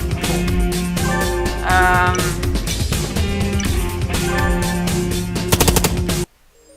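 Rapid gunfire from the video game Long Gone Days, repeated shots in quick bursts over game music, loud and steady, ending in abrupt near silence.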